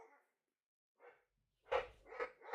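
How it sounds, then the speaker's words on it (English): Several dogs barking indoors in short bursts, faint at first and then louder and more excited, with a few sharp yips and no talk over them. "My dogs are going absolutely crazy."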